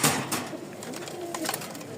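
Rajshahi high-flying Giribaz pigeons kept in a loft, soft low coos and a flutter of movement close by, with faint background noise and no clear talk.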